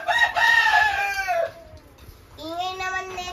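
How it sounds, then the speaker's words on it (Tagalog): A rooster crows twice nearby, a long loud cock-a-doodle-doo followed by a second call after a short gap, with faint background noise and some talk underneath. "Ingay naman na itong manok na to."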